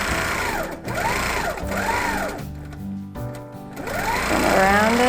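A sewing machine runs in steady bursts while stitching a leaf and feather quilting border, its whir rising and falling in speed with short pauses between passes, close and continuous with no talk.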